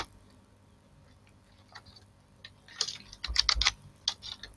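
Typing on a computer keyboard while adding text in Photoshop: quiet, sparse key taps at first, building into a louder, denser burst of rapid clicks near the end.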